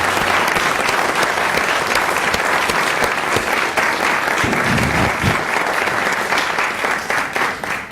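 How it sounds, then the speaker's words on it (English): An audience at a city council meeting applauds, a loud, steady wash of clapping that holds for several seconds and tapers slightly near the end, with a few cheers in the crowd. "Let's give them a round of applause."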